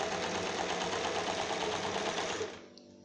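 A sewing machine stitches the lining of a dress with a fast, steady mechanical whir and rapid needle ticking, close and continuous, then stops abruptly near the end, leaving near silence.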